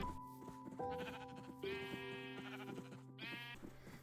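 Sheep bleating in the video game Minecraft, two drawn-out wavering bleats in close succession, fairly loud and close over a steady backdrop of game music with sustained tones.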